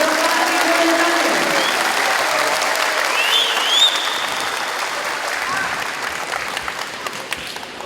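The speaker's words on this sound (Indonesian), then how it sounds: "Dan berikan tepuk tangan" A crowd at a ceremony handing out ID cards to street vendors claps for Ridwan Kamil: loud, sustained applause from many hands that slowly thins and fades.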